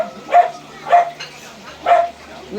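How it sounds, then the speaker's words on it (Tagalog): A dog barking three times at a moderate distance, short evenly spaced woofs over a quiet background. "Maingay ay aso."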